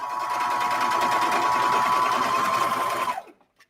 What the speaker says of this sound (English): I'm just stitching with a pretty narrow seam allowance